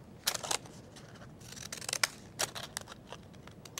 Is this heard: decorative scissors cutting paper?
yes